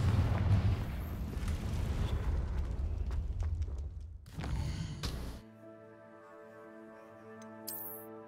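A Confringo blasting curse explodes in the Hogwarts Legacy game: dense crackling blast noise rolls on for several seconds, a second short burst hits, then everything drops away to sustained musical tones and a faint high chime.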